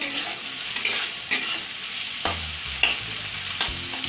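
Chopped green chillies, ginger and salt fry in a pan under a steady sizzle, broken by repeated scraping strokes of a spatula stirring them, close and moderately loud.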